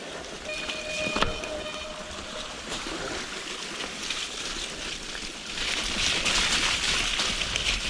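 Steady broadband rush of river water during a downhill bike ride along a river, continuous and fairly loud, swelling toward the end, with a brief tonal whine early on and no talking.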